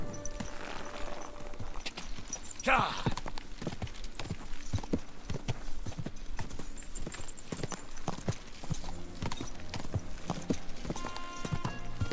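In the video game Kingdom Come: Deliverance II, hooves clip-clop in a steady walking rhythm, a horse moving at an even pace, with a brief whinny-like noise early on.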